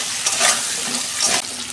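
Taro chunks coated in salt, turmeric and chili powder fry in oil, a continuous loud hissing sizzle that swells briefly as the pieces are stirred, with no talking.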